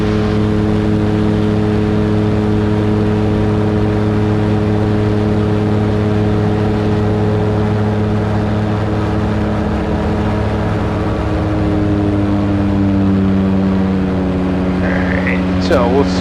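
A Super Petrel amphibious aircraft engine drones steadily during a step takeoff from water, a loud sustained tone with a steady pitch that shifts slightly near the end.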